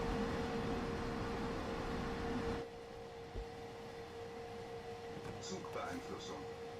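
Train cab noise with the windows open in the Train Sim World 5 video game on the Frankfurt-Fulda route, a loud broadband rush that suddenly drops to a quieter rumbling hum while someone talks.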